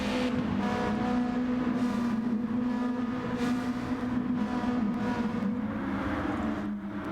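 Race cars lapping the Kyoto Miyabi course in GT Sport: a steady, fairly loud engine drone with a held tone that dips under braking, then rises again as the cars run onto the straight.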